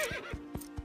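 A cartoon Arabian horse gives a short, high whinny that breaks into a descending neigh, followed by a few soft hoof clops, brief and fairly quiet.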